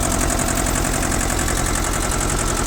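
A Shibaura SU1341 compact tractor with a loader and tiller runs at high revs, a dense, even mechanical chatter with a rapid regular pulse that holds steady and loud from start to finish.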